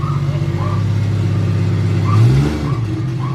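A Toyota MK4 Supra fitted with a swapped T56 Magnum six-speed gearbox idles loudly and up close, then briefly revs up and settles back to a steady drone.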